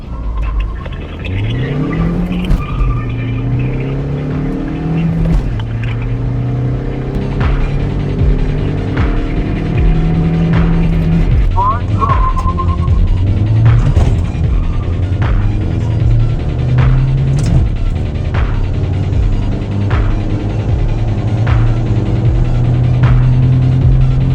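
A diesel Ford Figo 1.5 TDCi with a custom downpipe races off the line, its engine revving hard through rising and falling gear pulls, with a brief tire squeal. The sound is loud and close and continuous, with no talk.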